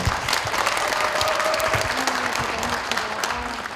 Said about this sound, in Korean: 축사를 해주신 도정원 의원께 다시 한번 큰 박수 부탁드리겠습니다.